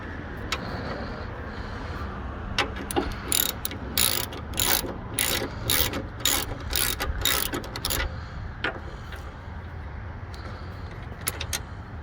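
Ratcheting clicks from turning a wheel bolt on a 1998 Mitsubishi Montero Sport, a quick burst of rapid metallic pawl clicks in the middle, close and fairly loud over a steady low background.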